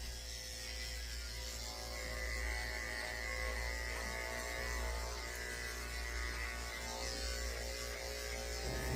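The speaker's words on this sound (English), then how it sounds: "I'm shaving the base of her tail with a 7 blade." Electric clippers fitted with a 7 blade shave the base of a small Bichon-Shih dog's tail during grooming, a steady low buzzing hum that runs evenly throughout, close but fairly quiet.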